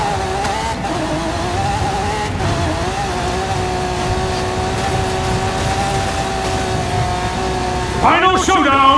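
A Lamborghini in a racing video game holds a steady, loud engine drone with layered harmonics that climbs sharply in pitch near the end as it accelerates hard, with a voice talking over part of it.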